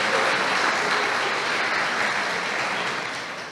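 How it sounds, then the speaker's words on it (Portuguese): A church congregation applauds after a Bible reading, with sustained clapping filling the hall for a few seconds before it begins to taper off at the end. "Você pode aplaudir a palavra de Deus"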